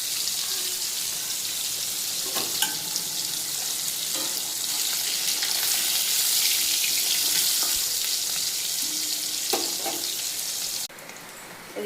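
Two pieces of hilsa fish frying in hot oil fill the clip with a loud, steady, close sizzle and crackle, which drops slightly in level near the end.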